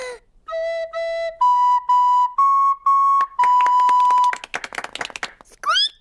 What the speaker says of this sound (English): I'm going to play the recorder.